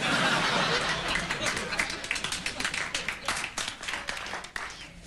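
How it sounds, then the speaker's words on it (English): Light, scattered applause from a late-night television studio audience, a broadband wash of claps that thins and tapers over a few seconds, with faint chuckles mixed in. "A smattering of applause."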